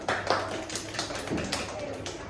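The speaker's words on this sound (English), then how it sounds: "Everybody clap." Group of children clapping in an ESL classroom, a few irregular claps spread over a couple of seconds, moderately near, with voices talking underneath.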